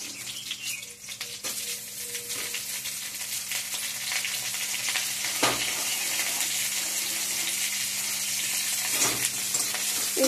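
Chopped onions go into hot oil and fry with a steady, fairly close sizzle that holds for the whole stretch, with a few soft scrapes and knocks as they are stirred around the pan.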